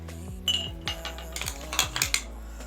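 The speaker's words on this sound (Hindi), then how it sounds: "जूस को सर्व करने के लिए ग्लास में थोड़ी सी आइस क्यूब डालेंगे।" Ice cubes dropped into a glass for serving chilled falsa sharbat, a few separate clinking knocks in quick succession, close and fairly quiet with no one talking.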